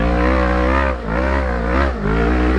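Kawasaki KLE500 motorcycle engine droning loudly and steadily while riding off-road uphill, a rich harmonic hum with two brief dips in revs as the throttle eases, close to the rider, no talk.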